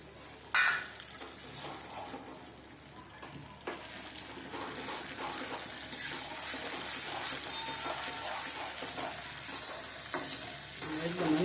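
Soaked spice paste goes into hot oil for an okra buttermilk curry, then gets stirred, giving a quiet close sizzle with scraping and occasional sharper clinks against the pan.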